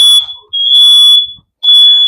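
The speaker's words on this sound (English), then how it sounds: "so we have sensitive smoke alarm" A smoke alarm blares in loud, piercing shrill beeps, three bursts with short gaps between them, very close.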